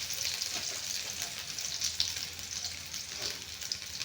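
Garlic frying in a pan sizzles steadily and close by, a dense crackling hiss that holds evenly throughout with a few faint scrapes and no talking.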